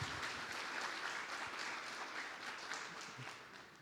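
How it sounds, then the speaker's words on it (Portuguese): Church congregation at a Vineyard couples' meeting clapping for its leaders, a soft, distant round of applause that stays even and then tapers slightly toward the end. "vamos dar uma salva de palmas para eles"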